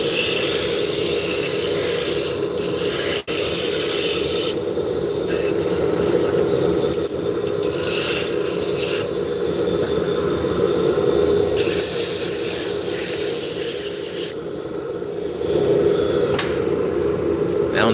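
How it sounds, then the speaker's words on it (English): A spindle gouge cutting wood on a spinning lathe while drop spindles are made, giving a steady rumbling hiss with a constant motor hum underneath and brief shifts in tone as the tool meets the wood; no voices. "I'm going to be changing to a spindle gouge, which is much flatter."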